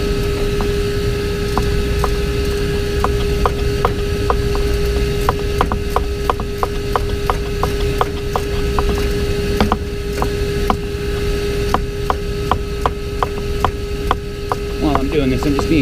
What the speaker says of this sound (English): I'll just use this speed portion of the wrench.